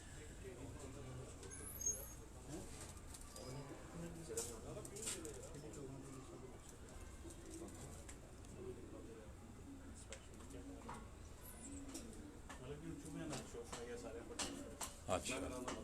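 Pigeons kept on a house rooftop in Rawalpindi coo softly and repeatedly at a distance, with people talking quietly in the background.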